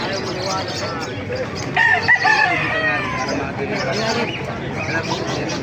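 Several roosters crow close by amid clucking hens at a market in Calumpit, while a person speaks over the noisy flock.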